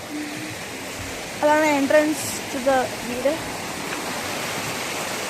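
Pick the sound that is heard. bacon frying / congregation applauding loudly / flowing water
flowing water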